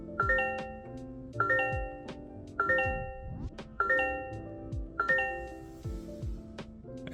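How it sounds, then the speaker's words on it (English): The startup chime of a 2023 Toyota Corolla Hybrid SE plays a soft, melodic series of tones inside the car, with several layered notes repeating in a rising pattern about every 1.2 seconds. "The Corolla Hybrid also has a new startup chime this year"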